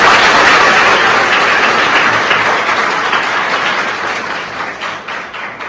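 A large crowd applauds loudly and steadily at a school drug awareness event, dense clapping that slowly fades toward the end, with no talking.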